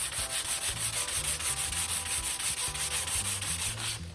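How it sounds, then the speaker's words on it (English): Coarse 60 grit sandpaper is rubbed back and forth by hand to strip lettering and barcodes off a surface, a loud rhythmic scratchy rasp repeating in quick even strokes without pause. "use some elbow grease and some sandpaper and use that to take off the lettering and the barcodes that are on there"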